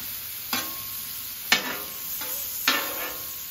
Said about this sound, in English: since these peaches are so soft, you don't want to cook them too long